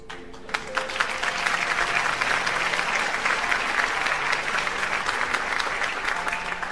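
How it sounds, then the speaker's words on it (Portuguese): Applause sound effect played during a rose and cashew painting lesson, a dense, even round of crowd clapping running continuously for several seconds at strong, steady level. "Deixa eu ver se tá funcionando o, o aplauso."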